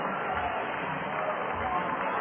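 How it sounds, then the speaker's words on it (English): A minor league baseball stadium crowd roars steadily after a triple, a continuous distant cheer heard through thin, broadcast-quality sound. "listen to the crowd"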